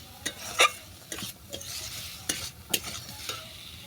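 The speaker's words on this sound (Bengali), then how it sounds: "এর সঙ্গে দিয়ে দিচ্ছি ভেজে রাখা কাঁকরোল কাঁকরোলটাকে ভালো করে নেড়ে ছেড়ে মিশিয়ে নিলাম" Fried pointed gourd is stirred into sizzling spice paste for a prawn kankrol jhal. A spatula scrapes and knocks against the pan in uneven strokes over a low frying hiss, close and clear, with no speech.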